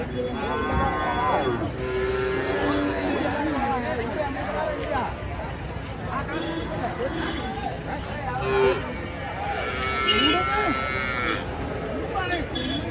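A cow moos loudly a few times over the steady hubbub of a crowd and other livestock at a busy outdoor village cattle market in Tamil Nadu.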